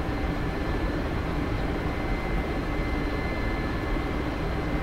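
Helicopter in flight while yawing and rolling, a loud continuous roar of rotor and turbine that stays steady throughout, with no talk.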